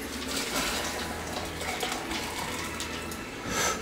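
Hot liquid from a partial mash for an IPA home brew pours in a steady, close, continuous splashing stream with no pause and no voices.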